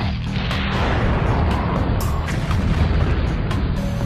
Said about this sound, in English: This is the General Atomics Blitzer railgun system.